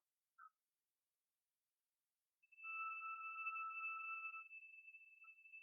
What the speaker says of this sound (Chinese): 电话没人接